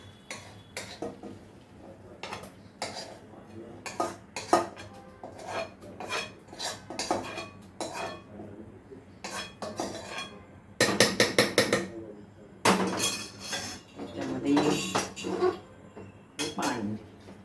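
A spice mix stirred into a cooking pot, heard as irregular metallic clinks and scrapes of a spoon against the pot. The clatter comes in bursts, with quieter gaps between them, at close range and with no talk.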